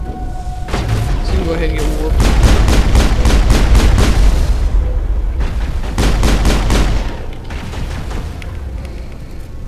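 Heavy gunfire and booming explosions in the Mass Effect video game, with dense bursts of rapid shots through the middle and near the end over a constant rumble, while someone talks across it.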